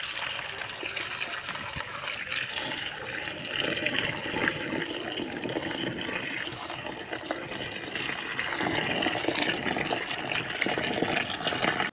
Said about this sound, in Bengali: আমি এখন সব উপকরণগুলো অর্থাৎ শাকগুলো ধুয়ে নিব।